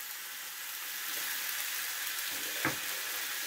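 About 500 grams of sausages fry in a spoonful of oil in a frying pan, giving a steady, soft sizzle close by, with one brief clink near the end and no talking.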